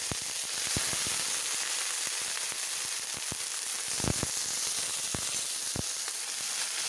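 Chopped onion goes into garlic frying in hot oil, making a steady, close sizzle with scattered sharp crackles and pops throughout and no one speaking.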